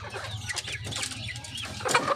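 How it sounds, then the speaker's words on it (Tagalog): Buff Orpington chickens cluck in a busy run of short, overlapping calls over a steady low hum, the flock close by with a few sharper notes rising near the end. "So ito naman yung mga Buff Orpington."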